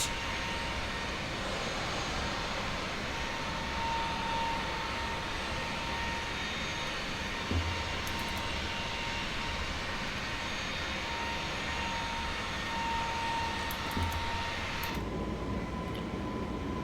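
Airbus A321LR jet engines in Flight Simulator 2024 hold a steady, loud broadband roar during the climb, with a faint tonal whine running through it and a brief click near the end.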